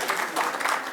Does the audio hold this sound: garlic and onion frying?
no